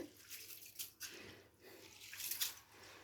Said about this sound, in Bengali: এইভাবে নাড়াচাড়া করে চালটাকে খুব ভালো করে ফ্রেশ করে ধুয়ে নেব